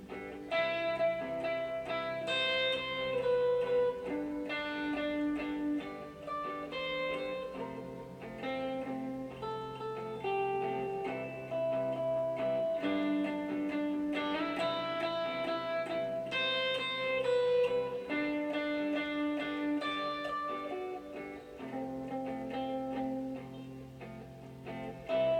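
An electric guitar loops the verse chords of a song, a steady run of ringing, slightly effected chords played continuously for about twenty-five seconds at moderate volume with no talking.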